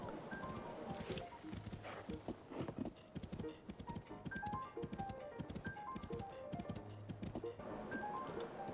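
Horse hooves galloping in Zelda: Tears of the Kingdom, a steady rapid clip-clop rhythm that runs throughout at close, even loudness, with game music notes and occasional effects mixed in.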